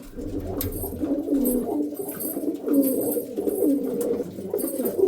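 A Kalanka pigeon pair coos steadily at close range, with repeated low throaty phrases rising and falling across the clip, accompanied by faint rustling and no speech.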